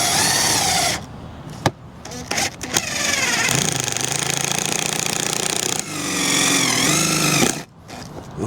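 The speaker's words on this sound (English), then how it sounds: "I'm going to use a 5/16 drill bit to start with" A power drill with a 5/16 bit bores into a part while a 2010 Ford F150 dash and HVAC box are being removed, whining in bursts that rise and fall, with short pauses and clicks between runs.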